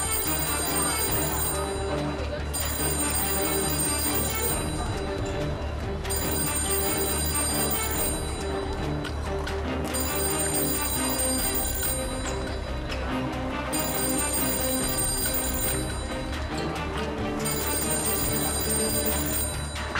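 A telephone bell rings on and off in repeated bursts of about two seconds, under continuous dramatic music that fills the background.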